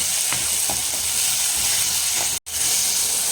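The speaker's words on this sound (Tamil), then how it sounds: "இது கூட தக்காளி சேர்த்துட்டு தக்காளி நல்லா வதக்கட்டும்." Tomatoes and onion sautéing in a pan give a loud, steady sizzling hiss with a few faint stirring scrapes and one abrupt momentary dropout.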